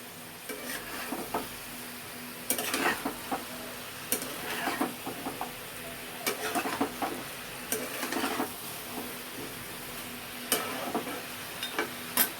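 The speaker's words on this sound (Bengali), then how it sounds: "দিয়ে আবারও সব একসাথে মিশিয়ে ভালো করে নেড়ে নেব।" Chicken stew with chopped ginger and garlic being stirred in a pan, with soft sizzling under repeated scraping and clattering strokes of a spoon in irregular bursts, close and fairly quiet.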